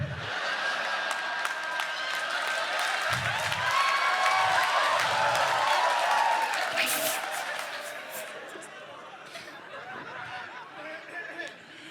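A comedy roast audience at a Gujarati night-out event bursts into sustained applause mixed with laughter and crowd chatter, loud and steady for several seconds before tapering off.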